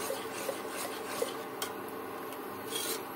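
Moong dal halwa is stirred in a cooking pot with a spoon scraping and rubbing against the metal base, a soft steady rasp with a few light clinks, alone and close.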